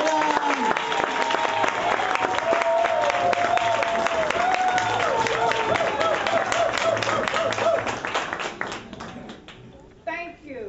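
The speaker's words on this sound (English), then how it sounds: "Can we give a round of applause for Barbara Jordan?" An audience at a Black History program claps warmly, a steady bed of many hands, while a voice speaks over it, then the applause thins and fades out near the end.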